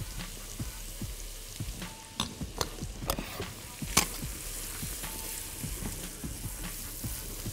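Carrots and onion seasoned with salt and black pepper fry in a pan, a steady soft sizzle broken by scattered clicks and scrapes of stirring, moderately close and without speech.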